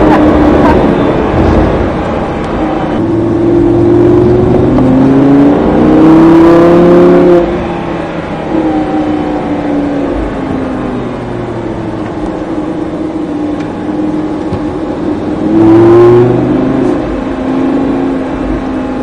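A Lamborghini accelerates hard around the Mas du Clos race circuit in Aubusson, Creuse, its engine climbing through revs in several loud surges with upshifts, recorded close from inside or near the car.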